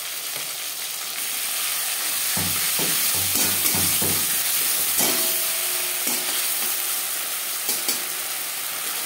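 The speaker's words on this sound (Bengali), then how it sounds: "মশলার কাঁচা গন্ধ যাওয়া পর্যন্ত নাড়াচাড়া করে নেব।" Ginger and green chili paste frying in oil in a pan, stirred with a spatula, producing a steady close sizzle with a run of scraping clatters in the middle and no voices.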